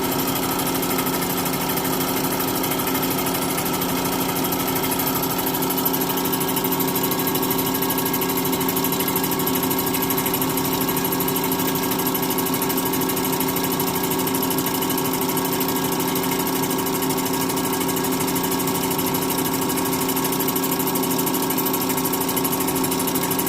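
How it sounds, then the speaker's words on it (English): A machine tool cutting a pass across the lip of an intake runner for a 12-valve Cummins swapped into a Chevy truck, flush with the valve cover sealing surface: a steady loud whirring hum with sustained tones, unbroken and close, no talking. "we left this lip a little bit proud so we can machine this smooth and even with the sealing surface for the valve covers"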